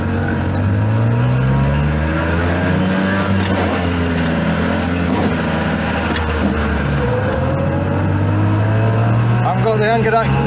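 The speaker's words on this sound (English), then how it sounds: "We're away. 30 miles an hour in a Messerschmitt." A small, buzzy Messerschmitt KR200 Cabriolet microcar engine revs and accelerates steadily up close to about 30 mph, with people talking over the constant engine drone.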